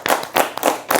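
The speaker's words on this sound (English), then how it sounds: "I'll clap" Several sharp hand claps in a quick, uneven burst, close and loud, with short pauses between the groups of claps and no talking.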